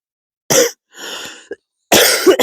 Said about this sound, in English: Sorry, I'm coughing.